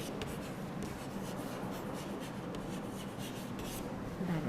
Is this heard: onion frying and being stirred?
no